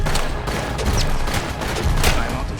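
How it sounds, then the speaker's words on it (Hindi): Rapid bursts of gunfire from a shotgun fight in the video game Apex Legends fill a short, dense stretch of loud shots close together, with faint talk beneath. "बैंगलोर वाला ना अच्छा यूज करता है शॉटगन यार।"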